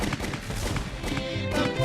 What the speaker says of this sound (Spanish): Se escuchó la metralla y los balazos.